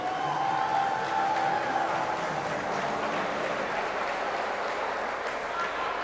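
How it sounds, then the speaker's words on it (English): Steady applause from a crowd at an international school games event fills the air, a dense even wash of clapping lasting several seconds with no break. "Give a big hand of applause to our champions completing the heats in this event"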